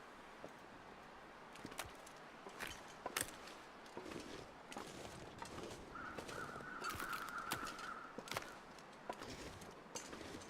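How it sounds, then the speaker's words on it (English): Distant crows caw faintly in the survival game The Long Dark, a brief thin call sitting low behind a steady outdoor hiss and scattered footsteps. "Oh, those are the crows way over there, I bet."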